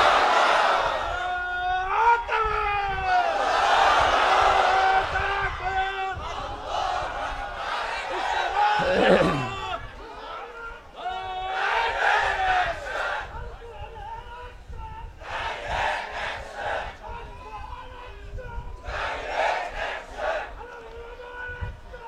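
A large crowd at an outdoor Bangla Islamic sermon gathering roars back a chanted takbir response in repeated loud surging waves of massed voices, with rising shouts and cheering between the bursts.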